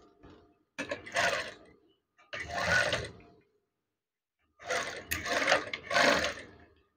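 A sewing machine stitches folded Vitrase voile curtain fabric in three separate runs, each a dense mechanical whir lasting about a second or two, with quiet pauses between them.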